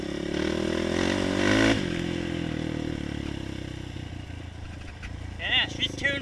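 A tuned motorcycle engine revving hard near full throttle, a loud steady roar that peaks early and then settles, with someone talking briefly near the end.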